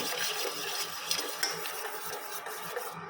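Potato and aloe vera gel mixture being stirred nonstop in a pot as it thickens into a jelly, a steady wet churning with soft scraping of the spoon, close and continuous.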